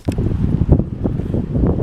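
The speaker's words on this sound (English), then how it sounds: "it's windy and rainy, but 50 degrees, pretty warm" Gusty wind buffets the microphone in low, rumbling bursts outdoors in rainy weather, loud and close, with no one speaking.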